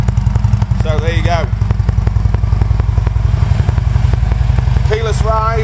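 Deep, rumbling idle from a 2012 Harley-Davidson Road King fitted with Vance and Hines exhaust and a Stage 1 setup, loud and close and pulsing evenly throughout, while someone speaks briefly over it twice.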